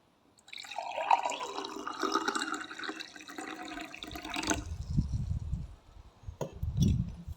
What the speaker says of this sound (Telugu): ఇట్లా ఒక గాజు గ్లాస్ తీసుకున్నాము.